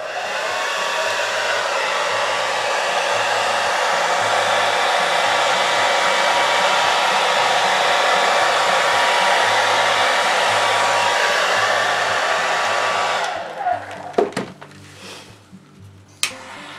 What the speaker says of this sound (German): mit dem Föhn.